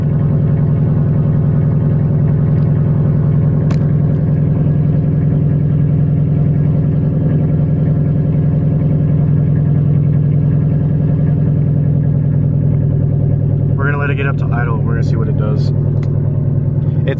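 A car engine idles steadily after a tune, a low constant rumble held close throughout, with a few brief higher sounds near the end; a voice talks over it.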